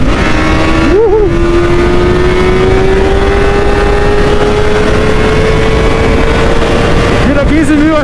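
A 600cc four-cylinder motorcycle with its original exhaust revs hard toward high RPM, a loud, sustained rising engine whine with throttle blips near the start and end, while people speak excitedly over it.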